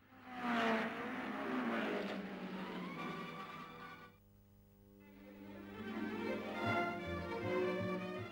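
Ford Cortina and Mini Cooper race cars lapping a closed circuit, engines roaring loudly with rising revs and a pass-by, a brief dip in the middle before the engine noise builds again.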